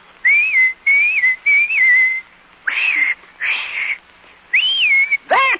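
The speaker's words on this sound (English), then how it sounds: "just whistle like this" A person whistles a short melodic tune in several separate phrases with brief pauses between them, ending on a quick falling trill, close and clear with no talking.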